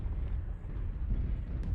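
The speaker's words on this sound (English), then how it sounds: "Airstrike online. Airstrike activated." An airstrike explosion in a video game booms as a deep, continuous low rumble throughout, with a couple of faint crackles near the end.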